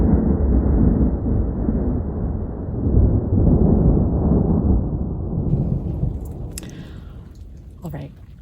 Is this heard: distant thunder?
yes